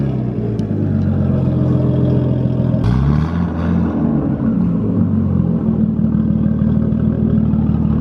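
A straight-piped Nissan Skyline R32 engine idles with a loud, close, raspy rumble, then is revved sharply, climbing and settling back into a steady throbbing idle.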